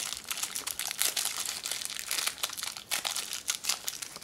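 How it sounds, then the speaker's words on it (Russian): Close crinkling and crackling of a small bubble wrap bag holding a selfie stick adapter being handled, continuous rustly texture with small sharp pops throughout. "Переходничок упакован в пакетик из пупырчатой пленки."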